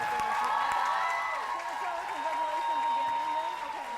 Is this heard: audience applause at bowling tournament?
yes